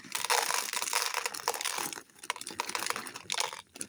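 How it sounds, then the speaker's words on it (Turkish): Plastic packets of beads being torn and opened, giving bursts of crinkling and crackling plastic that come in uneven rushes with short pauses between them, close up and with no voices. "Şimdi İlk önce her paketini açalım."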